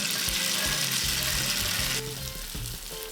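Tofu frying in two tablespoons of cooking oil in a frying pan, a steady close sizzle with a few soft stirring scrapes; the crackle eases slightly partway through.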